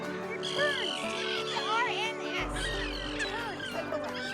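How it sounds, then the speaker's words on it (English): Loons, seagulls and terns calling over a lake on a canoe trip, with repeated harsh, sweeping cries and squawks scattered throughout, mixed in with nearby talking. "loons, seagulls, and terns."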